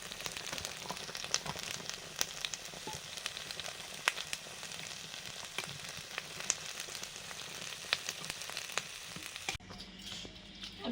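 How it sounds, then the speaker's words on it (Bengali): Fried lentil fritters (dal bora) simmer in a pot of boiling sour curry, a steady bubbling sizzle with scattered pops close by that drops off abruptly near the end. "টক ফুটে গেছে এবারে ডালের বড়াগুলো দিয়ে দিচ্ছি"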